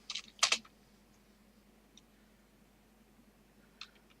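Typing on a computer keyboard to enter a Minecraft command: a quick cluster of clicky keystrokes at the start, then a lone tap and one more keypress near the end over a quiet room hum.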